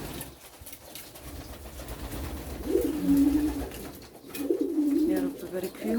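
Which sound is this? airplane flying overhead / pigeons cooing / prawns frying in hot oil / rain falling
pigeons cooing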